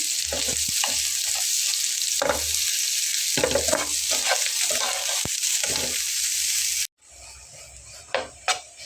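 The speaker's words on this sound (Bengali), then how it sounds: "এখন আমি এগুলোকে খুন্তি দিয়ে কেটে কেটে নিয়ে নেব আলুগুলোকে এর সঙ্গে।" Keema and potatoes fry in a hot pan, a steady bright sizzle broken by repeated scraping and chopping knocks from a spatula. Near the end the sizzle briefly cuts out, then returns more quietly under a few sharp clacks.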